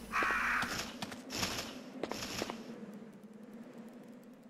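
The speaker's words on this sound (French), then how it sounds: "il y a des corbeaux, on s'en va" Crows caw in the video game Resident Evil 3 Nemesis: a few harsh, raspy calls close by, separated by short gaps, over a low hum and fading into quiet.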